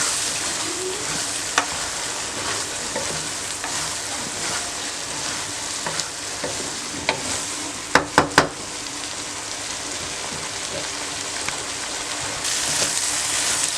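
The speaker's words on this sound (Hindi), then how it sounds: "एक मिनट के लिए मैंने इसको फुल फ्लेम पे पकने दिया" Dal karahi with tamarind water cooks in a pan over full flame, giving a steady close sizzle and bubbling throughout, with a few sharp clinks of a utensil partway through.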